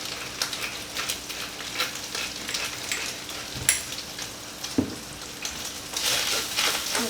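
Garlic frying in a pan for a bolognese sauce gives a steady, fairly quiet crackling sizzle with scattered sharper pops, and no voices over it.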